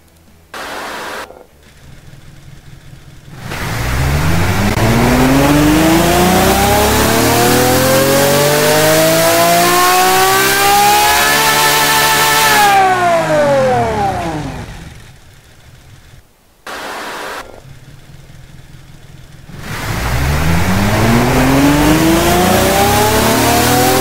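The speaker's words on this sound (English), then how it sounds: "Smokes, that engine sounds incredible." A custom-built car engine in the Automation game revs through dyno pulls, climbing steadily in pitch to a high scream before cutting off, with a short idle between two loud sweeps and no talk.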